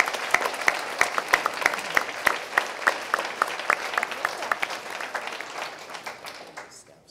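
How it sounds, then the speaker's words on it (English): Applause rises from the crowd at a community meeting, with one rhythmic, close clapper standing out over the wash of hands before it gradually fades away. "So I thought we should applaud you too."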